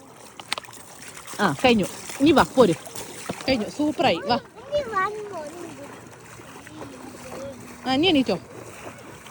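Water splashes and sloshes as a mother washes a small child outdoors, the bursts of water mixed in with her steady talking and a voice.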